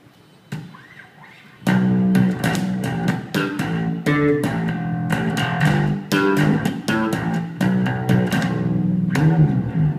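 A Fender bass guitar played through a Roland amplifier on its flip-top tone setting gives a warm, punchy riff of plucked notes and slides. A faint quiet note opens it, then loud, steady playing continues with no talk.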